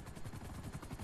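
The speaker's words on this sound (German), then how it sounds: "Da ist der andere Heli." Rapid, rhythmic thumping of helicopter rotor blades in the video game GTA Online, steady and fairly faint, with no voices.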